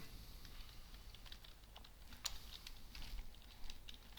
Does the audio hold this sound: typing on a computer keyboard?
yes